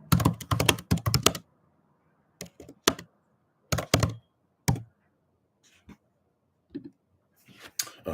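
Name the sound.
typing on a computer keyboard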